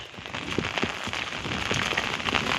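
Heavy rain pouring down outdoors over flooded castor fields, a dense steady patter of drops on surfaces with scattered louder splashes, close and continuous with no talk.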